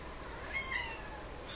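Faint, brief meows from a house cat come from somewhere in a quiet room, the second call slightly louder and higher, with only soft background hiss around them.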